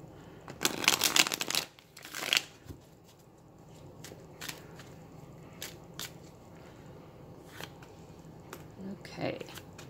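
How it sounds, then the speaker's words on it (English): Rider-Waite-Smith tarot cards being shuffled by hand in three bursts, brisk riffling and crisp card snaps up close, then lighter taps and shuffling with occasional speech. "I'm just going to do 3 shuffles here."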